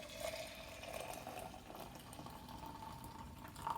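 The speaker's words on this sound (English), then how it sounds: "you want to pour some hot water into the jug like this" Hot water is poured into a jug, a soft continuous liquid fill that runs steadily for several seconds, faint and alone without talk.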